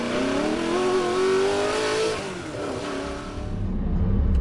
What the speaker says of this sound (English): Today we are heading out in my 2005 Lotus Elise, which I have owned since new.